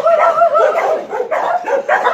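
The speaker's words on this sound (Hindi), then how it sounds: "कुत्ते बहुत भौंक रहे" Several dogs bark and yip together in a close, loud, continuous clamour. The barks overlap in rapid bursts with no talk over them.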